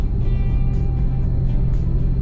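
Steady, loud road rumble from a car cruising over the Molino Flyover in Bacoor, Cavite, a continuous drone of engine and tire noise with no break and no voices.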